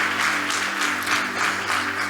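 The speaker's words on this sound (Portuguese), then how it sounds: "Vamos aplaudir o Senhor" A church congregation applauds at a Sunday service, a dense, even wash of many hands clapping together over a low sustained tone.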